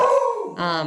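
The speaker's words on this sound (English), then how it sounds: "Sorry about my dog in the background." A dog howls and whimpers close by, a drawn-out tonal wail that shifts pitch and lasts under a second, with no talking.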